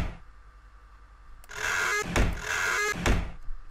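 A creaky door opens in the horror game 7 Days, two drawn-out grinding creaks with thuds between them, fairly loud and close, no talking.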